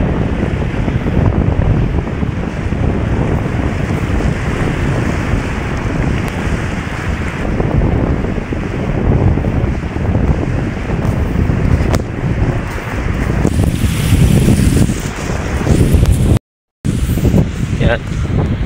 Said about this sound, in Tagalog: kung rinig nyo yung sounds natin kasi medyo malakas ang hangin dito